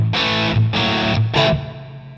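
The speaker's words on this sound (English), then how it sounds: "you can see that's a decent little chunk of the distortion" Distorted electric guitar through an amp with an extra gain stage, three loud sustained chords with short gaps between, the last one briefer and fading out.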